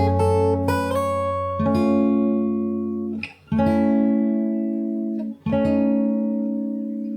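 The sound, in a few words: fingerstyle guitar playing a song part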